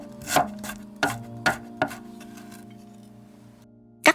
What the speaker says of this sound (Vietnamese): Một nửa củ hành thì mình băm nhuyễn để lát mình xào nhân